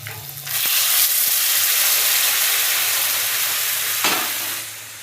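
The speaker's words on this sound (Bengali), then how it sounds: "দেখো গরম জলটাই দিচ্ছি" Hot water poured into a fish curry sets off a loud, rushing hiss and steam burst that holds steady for several seconds, then tapers off, close by with no talk.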